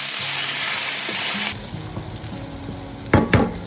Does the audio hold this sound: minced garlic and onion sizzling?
yes